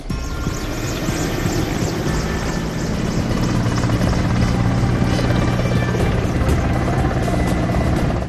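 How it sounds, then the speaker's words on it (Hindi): An air force helicopter's rotor chop thunders steadily overhead while showering flowers, loud and sustained throughout, with a rapid beating rhythm and engine whine. "फिर वायुसेना के हेलीकॉप्टर ने फूलों की बारिश की"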